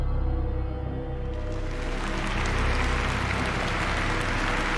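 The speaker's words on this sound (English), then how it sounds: "I don't think we need applause if that's all it is." Applause in the video game Virginia, a steady wash of clapping from a crowd lasting several seconds over a low game soundtrack.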